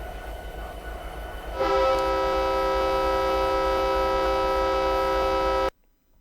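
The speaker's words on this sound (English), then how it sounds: "Press and hold the horn switch to sound the horn" A horn on a diesel multiple unit (DMU) train sounds from the cab, a loud, sustained multi-tone blast of about four seconds that starts suddenly over a low engine rumble and cuts off abruptly.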